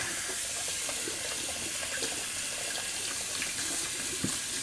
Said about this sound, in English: So real quick, I'm just going to rinse all this out.